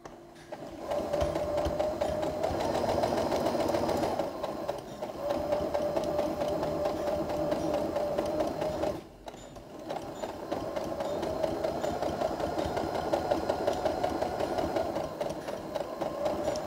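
An electronic sewing machine stitching all the way around a glasses holder, a close continuous whirring hum that pauses briefly midway before running steadily again.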